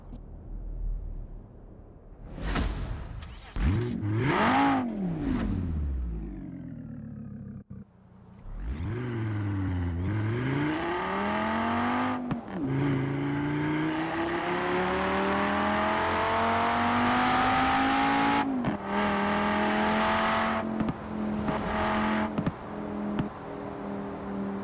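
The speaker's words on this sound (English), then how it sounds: "let's pause for a second to let the engine do the talking while we take it out for a test" A stock Audi RS2 in the Forza racing game revs and accelerates through the gears, the engine note climbing and dropping between shifts, with exhaust crackle and a sustained pull that holds loud through the second half.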